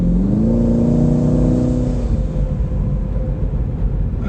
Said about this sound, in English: In quiet mode, with the diverter valves closed, you can really hear the turbos